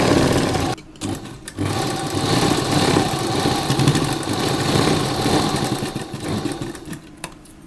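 A sewing machine stitches along the edge of an A-line kurta, running with a steady fast whir that is broken by two short pauses near the start and stops briefly toward the end.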